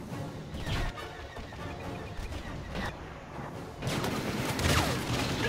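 Gunfire from a pistol in Star Wars Battlefront during a Walker Assault battle on Hoth, with busy crackling shots running throughout and a louder burst of fire near the end.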